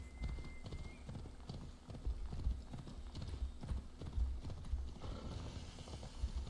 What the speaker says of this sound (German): So, jetzt wollen wir aber erstmal zu Duris reiten und unser Geld holen.